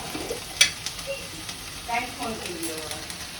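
Mustard seeds and spices crackle and sizzle softly in hot oil for tempering, with scattered pops and stirring sounds, fairly close and moderately quiet.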